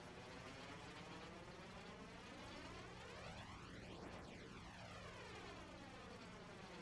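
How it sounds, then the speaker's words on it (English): Jet-like whine from an engine in the game Scrap Mechanic, a continuous roaring drone whose harmonics sweep in pitch as if passing by, steady and loud throughout with no talk. "Why does it sound like a jet?"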